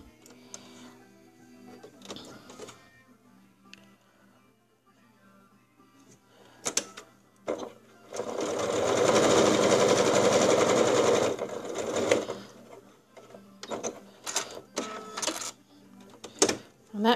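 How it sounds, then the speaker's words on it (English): A sewing machine stitches a Valentine's pot holder, with short bursts of rapid mechanical clatter between pauses and one sustained run of stitching lasting several seconds in the middle. "I'll take it out and do another stitch down the other side."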